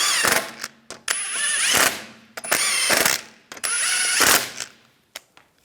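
Ratchet snugging the wheel lug bolts on a Volkswagen Beetle, several bursts of rapid close clicking separated by short pauses and the clink of the tool.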